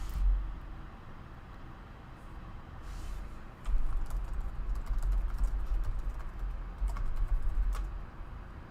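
Someone types steadily on a computer keyboard, a continuous patter of key clicks that grows busier partway through, with no voices.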